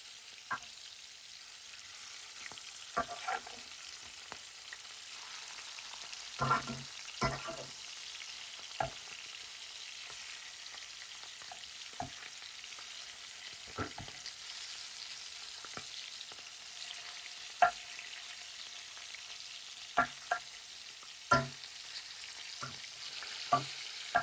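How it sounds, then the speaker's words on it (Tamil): Fish frying in a pan for gongura fish curry, a soft steady sizzle broken by scattered sharp crackles and pops, close by and without talk. "ஒரு 5 மினிட்ஸ்லயே ஃப்ரை பண்ணி எடுத்துடலாம்"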